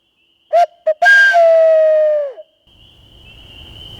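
Two short toots, then a sustained whistled note from a plastic owl call used in turkey hunting that slowly drops in pitch before cutting off, followed by faint noise.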